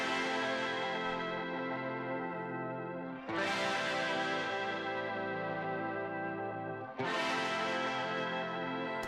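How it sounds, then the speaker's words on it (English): Layered guitar chords processed through a Chroma Console effects unit, with distortion, chorus and echo, ring out in three long sustained strums that decay slowly, each new chord cutting in sharply over the fading tail; no voices. "we added in this layer of"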